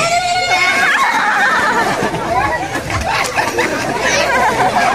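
A crowd at an outdoor motor show in Balungao, Pangasinan shouts and screams loudly and continuously, with overlapping voices cheering close by throughout.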